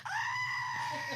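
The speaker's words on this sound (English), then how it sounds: "That deserves a goat." A goat sound effect bleats once, loud and close, a long wavering cry that holds for over a second.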